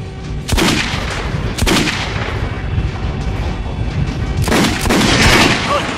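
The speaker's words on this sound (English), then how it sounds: "Try shooting for the center of the regular dummy's chest." Gunshots fired at target dummies on a shooting range in the game Metro Last Light, three loud sharp reports spaced a couple of seconds apart over a dense, noisy background.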